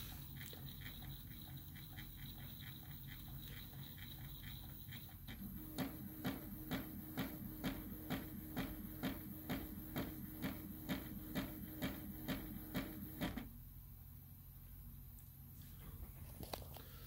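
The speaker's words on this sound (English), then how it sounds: "It's now going to run all the way to the very top of the printer." Prusa MK3S 3D printer homing during its calibration wizard: a steady motor whine with a rapid, regular stepping pulse that runs for several seconds, then stops, leaving a quieter hum under a low electrical buzz.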